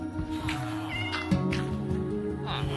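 A domestic cat meows a few times, fairly quiet and close, over a low background hum with no talking.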